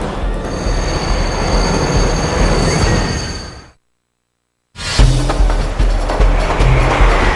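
A São Paulo metro train passes through the Sé station tunnel, its wheels screeching loudly and steadily, cutting out abruptly for a moment before the roar and squeal resume.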